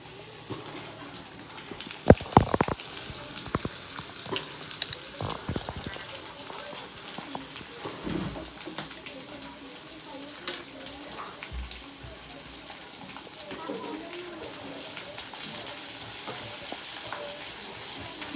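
Garlic and onions sizzle and fry in a pan, a steady faint crackle with occasional louder stirring clatters and scrapes near the start, no talk over it.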